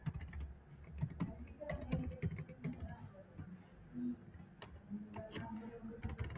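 Computer keyboard keys typed in quick irregular bursts while a MongoDB query is entered, close and fairly quiet with short pauses, under a low background hum.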